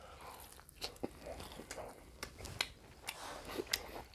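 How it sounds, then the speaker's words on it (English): Soft, close biting and chewing of a grilled honey bun bacon smashburger with sticky glaze, a few wet crunches and mouth sounds over a quiet background. "Let me get another bite."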